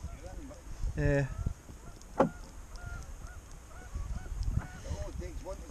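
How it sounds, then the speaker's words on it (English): Geese honking beside the River Tweed during salmon fishing, a few clear honks in the first seconds and scattered calls after, heard over running water and some talk. "when I go salmon fishing nowhere near the coastline, there's geese everywhere?"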